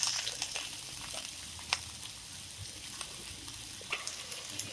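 Fried potatoes dropped into hot oil with mustard seeds, giving a soft steady sizzle with scattered light crackles and pops, close but faint, with no talking.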